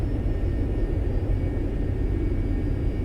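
Business jet engine of a Carenado Citation II in X-Plane 11 flight simulation, a steady broad rumbling drone with a faint high whine, continuous and evenly loud throughout with no talking.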